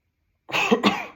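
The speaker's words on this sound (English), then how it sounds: "So that is the right way of coughing." A single short cough, two quick bursts close to the listener, after a moment of silence.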